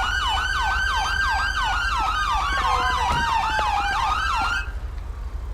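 Wailing police car siren from the game GTA5 with the LSPDFR police mod, loud and steady with repeated rising-falling sweeps plus a second overlapping tone, cutting off abruptly near the end.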